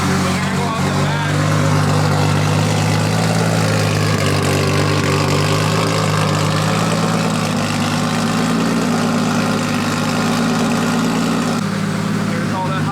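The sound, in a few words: 2JZ engine idling in E36 drift car, first start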